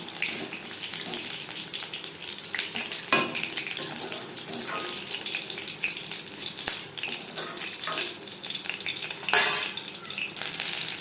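Chicken pakoras fry in hot oil with a steady, even sizzling hiss, continuous and moderately close, with occasional brief crackles and no talking.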